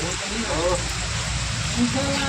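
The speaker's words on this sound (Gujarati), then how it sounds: "મેડમ વરસાદ ચાલુ હે જોરદાર" Heavy rain pours down in Mehsana, a dense, steady roar of water that runs without a break, with faint voices murmuring beneath it.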